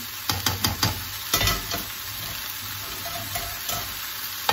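Hokkien noodles stirred in a frying pan, with a spatula scraping and tossing in several quick strokes over a steady background sizzle, close and moderately loud, no talking.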